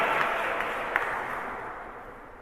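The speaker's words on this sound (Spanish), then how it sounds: "Desen un aplauso, ustedes cantan mejor que yo." A congregation at a church lesson on the Mass applauds. The clapping is a soft, diffuse wash that fades gradually, with no talking over it.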